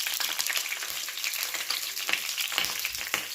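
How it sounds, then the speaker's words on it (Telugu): Green chillies frying in peanut oil for a pickle, a steady bright sizzle with crackling pops throughout, close and continuous with no talk. "పల్లీలు ఆయిల్ కొద్దిగా వేసుకున్నాక ఈ పచ్చిమిర్చిని వేసుకోవాలి."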